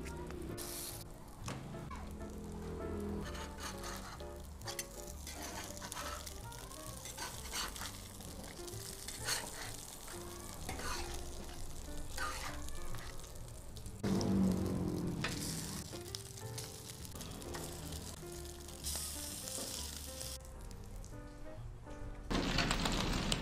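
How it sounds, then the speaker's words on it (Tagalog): Beef burger patties sizzle on a hot burger griller, with a continuous crackling fry punctuated by clatters and bursts as patties are placed and handled, and a brief muffled voice now and then. "Mainit na ang ating burger griller. Lagay lang natin ang ating patty."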